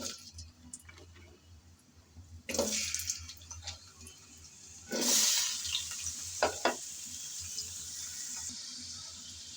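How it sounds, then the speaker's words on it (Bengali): Potatoes hit hot oil in a home kitchen pan, setting off sudden sizzling bursts that settle into a steady, crackling hiss nearby. "গরম তেলে প্রথমে আমি আলু ভেজে নেব।"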